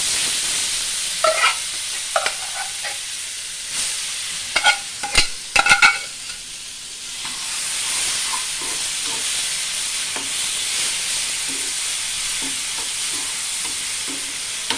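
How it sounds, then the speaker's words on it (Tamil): Pumpkin sautéing in a pan for payasam, with a steady sizzle underneath and scattered metallic clinks and scrapes of a stirring spoon, a few sharp knocks midway, close and fairly loud. "அப்புறமா இதை நல்லா போட்டு வதக்கணுமா"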